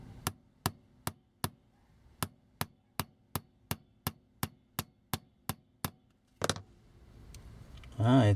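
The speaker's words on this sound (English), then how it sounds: "so let's tap it with the hammer, but be careful because you don't want to make a lip" A hammer taps a Transformers G1 Stunticon toy part, Takara Japan version, during disassembly, about fifteen sharp, evenly paced light taps up close, followed by some handling noise and a short burst of voice.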